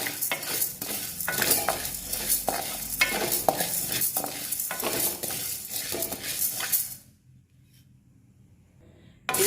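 Chana dal dry roasted without oil in a pan while being stirred for idli podi, a steady scraping and rattling of lentils against metal for about seven seconds, then sudden quiet.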